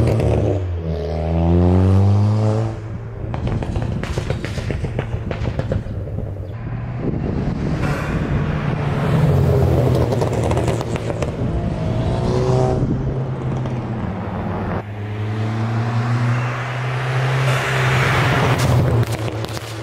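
A Ford Fiesta ST tuned for pops and bangs revs in repeated rising and falling sweeps, loud and close, with crackle between pulls and wind buffeting the microphone.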